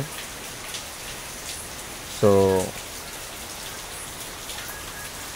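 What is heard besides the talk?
rain falling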